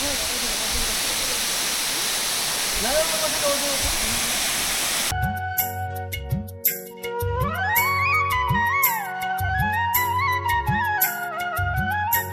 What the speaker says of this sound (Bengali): তো তার পাশেই একটা ঝর্ণা, কত সুন্দর ঝর্ণা।